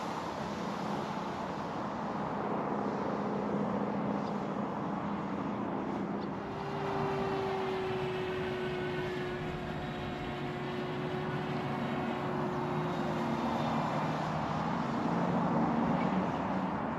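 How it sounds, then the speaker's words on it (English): A model glider's electric motor and propeller drive it upward in a climb, giving a steady droning hum with a rising whine that holds for several seconds, heard outdoors at moderate distance with no talking. "Now this motor and prop combination is not a speed demon. It's more for just getting altitude quick, which it does."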